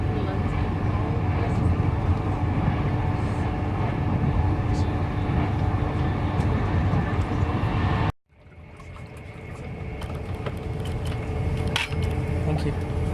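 A Virgin Trains Pendolino travels at about 125 miles an hour, heard from inside first class as a steady broadband rumble and rush, briefly dropping away before building back up.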